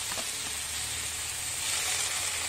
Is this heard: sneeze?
no